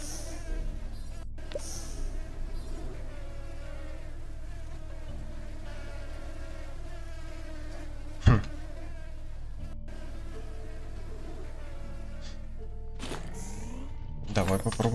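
Steady insect-like buzzing from flies in the Supraland video game hums throughout, with a sharp thump partway through and a few brief clicks and noises near the end, while no voices are heard over the drone.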